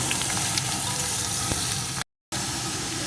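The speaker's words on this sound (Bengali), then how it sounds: "লাউটাকে কিছুক্ষণ নাড়িয়ে রান্না করে নেব" Chopped bottle gourd is stirred and cooked in a pan, giving a steady close sizzle and frying hiss with a brief break near the end.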